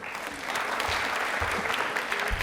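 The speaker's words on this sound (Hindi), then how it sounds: "फिर भी अपने लिए तालियां बजा दीजिए आप लोग।" A studio audience at a televised quiz show claps in a full, steady burst of applause that swells after a brief start and holds through the end, with a few low thumps beneath.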